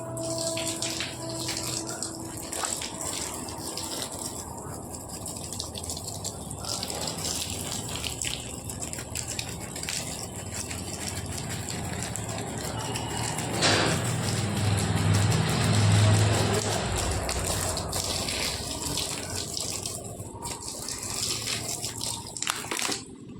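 Water pours steadily from a tap or hose while a plant is watered. The gushing flow is continuous and fairly close, swelling louder midway before easing off, with no talk over it.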